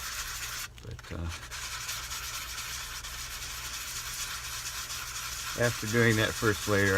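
Sandpaper of 220 grit rubbing across the resin top of a photo cube, a steady broadband scratching that runs through the clip, with a voice speaking briefly near the end.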